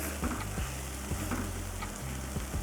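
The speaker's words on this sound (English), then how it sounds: "Now what you want to do with that is sliding them into the pan." Potatoes slide into a hot frying pan and sizzle loudly and steadily, with low thumps and scrapes as they shift about, close and continuous without speech.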